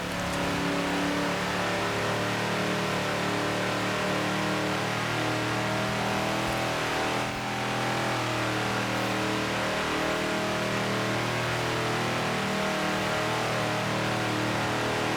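A 1973 Ford XB Falcon GT engine in Forza Horizon 4, droning loudly and continuously at steady revs for the whole stretch, with no talk over it.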